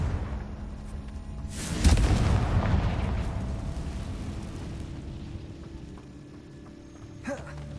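Confringo fire spell explosions in the Hogwarts Legacy video game: one heavy booming blast bursts out and rumbles down into a long fading tail, with a smaller pop near the end.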